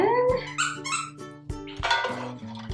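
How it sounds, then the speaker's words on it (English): A dog's squeaky toy squeals in short, sharp, high-pitched bursts in a home kitchen, with a dog's growls and yips mixed in and the squeaks repeating irregularly up close. "that's what you're hearing squeaking in the background"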